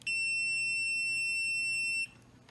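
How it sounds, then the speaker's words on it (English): A steady, piercing electronic beep from a multimeter on its continuity setting with the two test leads touched together, holding for about two seconds and then cutting off, with no talking over it. "the multimeter is going to produce a noise to show that there's continuity"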